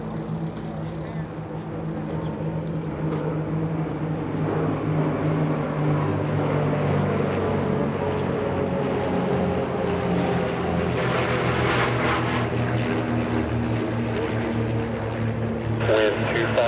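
An Alaska Air National Guard C-17 Globemaster III jet arrives at EAA AirVenture 2025, a steady loud engine roar swelling gradually over the whole stretch, with crowd and airfield chatter faintly underneath.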